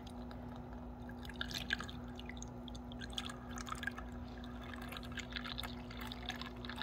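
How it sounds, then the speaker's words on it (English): Water poured into a Walmart single serve coffee maker's reservoir, a soft continuous trickle and splash with scattered drips, quiet and close, over a faint steady hum. "So I'm going to add the water to it."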